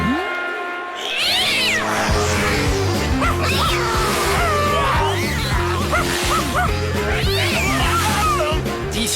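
Barks and yips from a dog in an animated Lucky Luke-style western cartoon, a rapid run of sharp calls over a rhythmic comic music score, loud and close.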